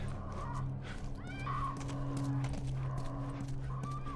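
A horse in The Last of Us snorts and shifts faintly in a quiet outdoor scene, with a steady low ambient hum, soft hoof-like thuds and occasional brief bird-like chirps.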